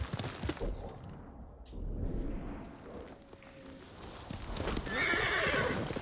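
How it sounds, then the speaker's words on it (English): Horse in Ghost of Tsushima galloping with rhythmic clip-clop hoofbeats and a loud neigh, moderately close, over wind and ambient game sounds. "Oh, thank god a horse survived."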